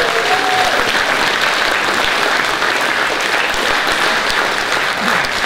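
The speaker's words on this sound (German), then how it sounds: "Aber ein Applaus für die Clara." Concert audience applauds an accordion player at an autumn concert in Schrozberg, a dense, steady burst of clapping from a full crowd that holds loud and even from start to finish.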